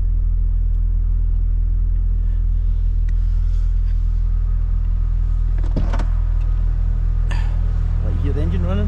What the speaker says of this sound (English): hear the engine running? With a bit of revving?